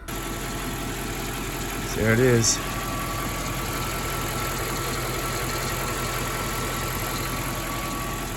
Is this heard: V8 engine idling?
yes